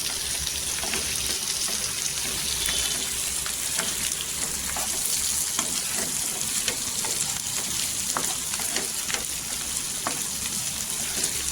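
Potatoes sautéing in oil in a home kitchen pan, a steady loud sizzle with scattered crackles and faint stirring scrapes throughout, close by and without talk.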